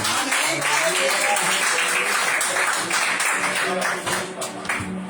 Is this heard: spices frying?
no